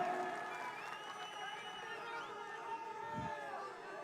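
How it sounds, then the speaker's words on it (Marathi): A crowd applauding and cheering at a political speech rally in Karjat, a dense wash of clapping mixed with crowd noise and chatter, moderately distant and sustained. "जरा टाळ्या टाळ्यांचा गजर जरा जोरदार सगळ्यांनी"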